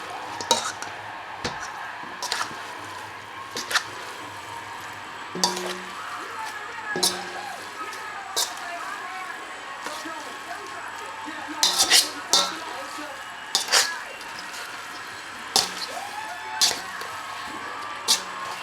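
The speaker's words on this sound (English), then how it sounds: "And now we will just take and stir this, and stir that sauce into the pasta." A spoon stirs sauce into homemade pasta for shrimp scampi, sending repeated sharp metal clinks against the pot and bowl at an irregular pace, with soft wet stirring between the taps and faint background hum.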